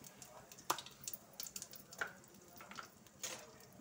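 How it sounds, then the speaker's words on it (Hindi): Cumin seeds and asafoetida sizzle in hot oil in a pan, a faint crackling fry with scattered small pops and stirring clicks, quiet and without talk. "तेल हमारा गरम हो चुका है, इसमें डालेंगे हम आधा चम्मच जीरा, और जाएंगे आधे से चौथाई चम्मच हींग।"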